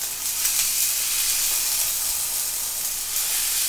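Pork loin sears in a lightly oiled pan, a steady close hiss and sizzle running unbroken throughout with no talking.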